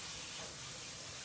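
Cold water sprays in a steady hiss over hot gluten-free pasta, a short continuous burst close by with no voices.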